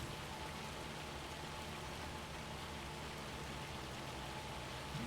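Light rain in the Farming Simulator 25 video game, a steady, soft, even hiss of falling drops with no breaks, alone without talk.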